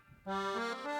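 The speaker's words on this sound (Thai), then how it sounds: "รุ่นนี้เป็นเสียงกีตาร์" A short guitar voice on a Yamaha PSR-S910 keyboard, a few sustained notes sounding close and clear after a brief quiet start.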